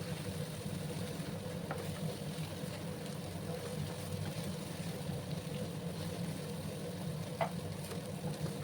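Spices and coconut powder sizzle steadily in a frying pan for a raw plantain kofta curry, with a constant close hiss and a few faint scrapes of stirring, no talking.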